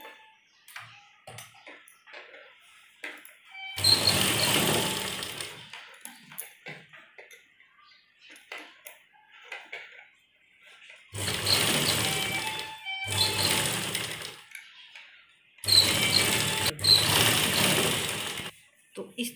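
A sewing machine stitches a fabric face mask in three loud bursts, each lasting a few seconds. Quiet pauses between them carry faint talk and small handling sounds.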